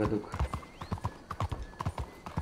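An Arabian horse in the Red Dead Redemption 2 video game clip-clops steadily at close range, with a brief whinny, under a man's speech.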